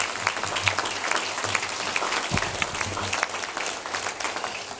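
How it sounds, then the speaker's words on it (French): An audience at a mayor's New Year wishes ceremony in Roquefort-La Bédoule claps steadily, with dense, loud applause that carries through the whole stretch. "Vous pouvez applaudir."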